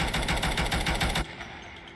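Rapid automatic gunfire punching through walls in Call of Duty Mobile battle royale, a dense rhythmic burst of shots lasting about a second before cutting off into quieter ambience.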